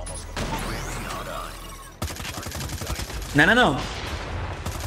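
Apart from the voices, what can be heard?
gunfire in video game Call of Duty Mobile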